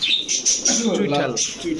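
Domestic pigeons, including a white bird and a pair of red-geared birds, coo at close range in a loft, with chirpy calls and voices talking over them.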